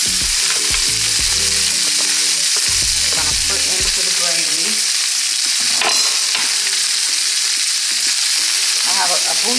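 Bell pepper and onion sizzle loudly in a pan of gravy for smothered lamb chops, a steady bright hiss with a few stirring clatters early on, close and continuous.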